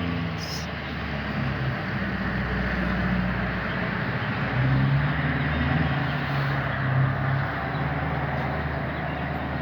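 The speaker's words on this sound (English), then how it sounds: "excuse the road noise, we're by a busy road." Steady road traffic from a busy road beside the street, a continuous broad rumble of passing vehicles that swells briefly as a heavier one goes by, with no voices.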